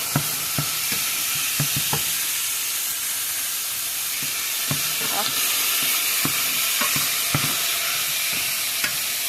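Shepherd's pie filling frying in a pan gives a loud, steady sizzle and hiss throughout, broken by repeated scraping stirs, with no talk.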